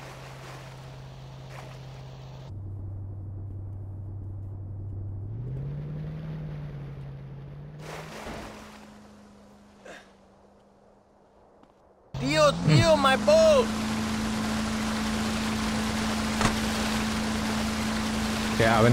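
A boat engine in the video game GTA San Andreas drones at a low, shifting pitch, drops to near quiet, then roars up loud and steady with a rough, revving edge for the last several seconds.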